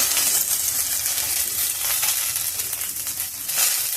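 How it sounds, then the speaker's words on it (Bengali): Okra frying in a pan on a low gas flame sizzles with a bright, continuous crackling hiss and faint pops, close and steady throughout with no voices. "ঢ্যাঁড়সগুলো একটু ভালো করে ভেজে নেব।"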